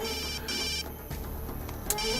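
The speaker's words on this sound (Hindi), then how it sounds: "भैया का ही फोन आ रहा है।" A mobile phone rings with an incoming call, a steady repeating electronic ringtone melody that plays close and clear throughout with a brief break midway.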